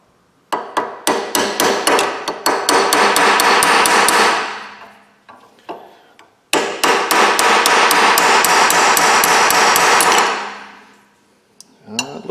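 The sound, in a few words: hammering a brass chisel on a steering cylinder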